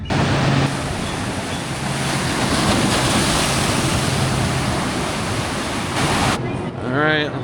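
Ocean surf rolls steadily onto a Hawaiian beach, a loud continuous wash of breaking waves with wind buffeting the microphone, and a brief tonal sound near the end.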